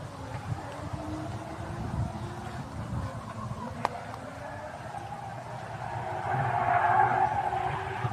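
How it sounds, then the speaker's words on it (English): Folk racing cars skid and rev on a nearby track that is out of sight, giving a continuous rough roar of engines with drawn-out tire scrubbing. The noise swells toward the end and no one talks over it. "There are folk racing there, it sounds like. Can't really see them, but like, you can hear them."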